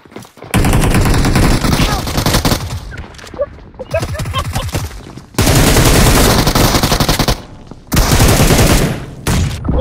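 Gunfire in the mobile battle-royale game PUBG Mobile played on an iPhone 11, with loud sustained automatic bursts in several long volleys separated by short pauses, shots clustered densely and close.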